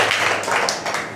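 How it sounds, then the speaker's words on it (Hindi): Schoolchildren clap together in a village government school classroom in Uttar Pradesh, a steady close burst of many hands that fills the whole moment. "आप लोग तालियां बजा ले, बहुत शानदार।"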